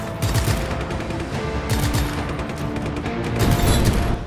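Fuel tank explodes amid Just Cause 3 combat, a loud dense barrage of booms and rapid gunfire-like bursts building toward a heavier blast near the end, close and continuous with no talk.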